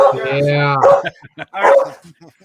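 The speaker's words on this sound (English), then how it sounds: "I want to hear him bark right now." A pet dog barks and yips up close in a few loud, quick bursts, with short gaps of quiet between them.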